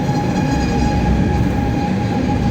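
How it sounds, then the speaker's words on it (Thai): A Swiss GoldenPass line train rumbles steadily into a station platform, with a continuous low roar and a thin high metallic whine from the wheels, close and loud. "มาแล้วนะครับรถไฟโกลเด้นพาร์คนะครับ เข้าสู่ชานชลาเรียบร้อยแล้ว"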